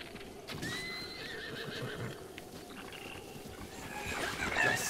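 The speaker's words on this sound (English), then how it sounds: "at least you set the horse free" A horse in Zelda: Breath of the Wild neighs with a rising, wavering whinny while hooves clip-clop steadily underneath, the calls recurring and growing louder toward the end.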